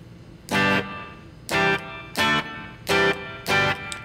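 Five separate guitar strums through a Pure Data reverb pedal, each chord ringing briefly with a washy reverb tail that lingers into the quiet gaps between them.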